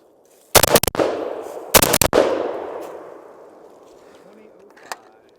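A 5.56 AK rifle with an 18-inch barrel fires two short rapid bursts outdoors, each sharp crack train followed by a long echoing tail that fades into quiet.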